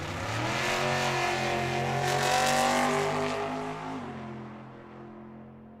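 A left-steer roadster fuel altered blasts off the line at Tucson Dragway, a loud raw engine roar that builds and then fades as the car pulls away. No one talks over it.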